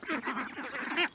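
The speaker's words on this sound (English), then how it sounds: "The geese are getting so beautiful" Geese with white feathers call in a quick run of nasal, honking quacks, several overlapping calls close by and fairly loud, with no talk.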